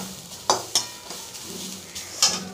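Carrots are stirred in a pan with a few separate spatula clinks and scrapes over a faint sizzle. The sound is close and moderately loud, with no one speaking.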